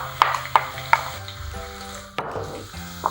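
Shallots frying in oil in a wok over medium-low heat, a gentle sizzle punctuated by several metallic clinks and scrapes of a utensil, close, no speech.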